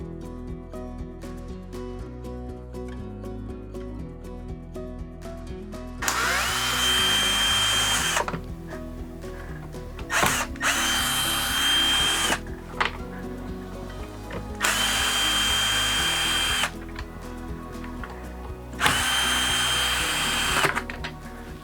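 A power screwdriver backs out the screws holding a Dometic RV air conditioner ceiling cover, with four loud bursts of high whining drill noise separated by quieter pauses and handling sounds.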